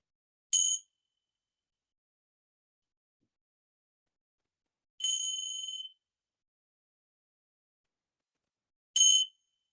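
Three clear chime strikes ring out at spaced intervals during a yoga nidra relaxation practice, each a bright metallic ding over near silence, the middle one sustaining slightly longer before fading.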